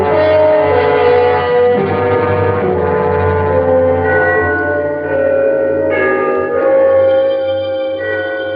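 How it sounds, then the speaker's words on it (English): Loud, resonant Trinity church bells chime the three-quarter hour continuously, their ringing tones overlapping and sustaining with a deep hum underneath. "The bells of Trinity had just run the 3/4 hour."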